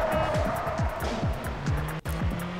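A car engine in a PlayStation 2 driving game revs up in quick repeated rising sweeps, close and steady, with a brief dropout near the end.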